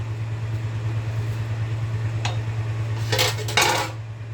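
A metal lid clanks down onto a cooking pot of gourd curry with a short double clatter near the end, following a lone earlier tap, over a steady low hum of kitchen noise.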